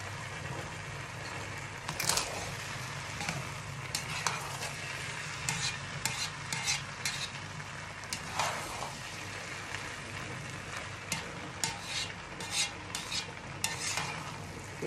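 Vegetables sizzle and fry in a pan for fried rice while a utensil stirs and scrapes them in bursts, with a steady close crackle underneath throughout.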